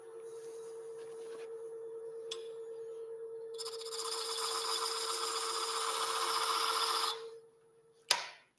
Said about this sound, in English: And then when I finish sanding it,